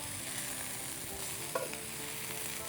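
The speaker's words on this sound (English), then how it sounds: "Just kind of like fold it, bringing the bottom up." Leftover rice with oyster sauce is stirred and folded in a hot pan, giving a steady close sizzle with soft scraping turns and a brief louder clatter partway through; no talking.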